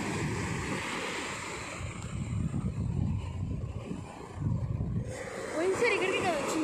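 Sea waves wash onto a beach where fishing boats are pulled up, with surf swelling and breaking in slow surges under gusty wind noise, while people talk nearby.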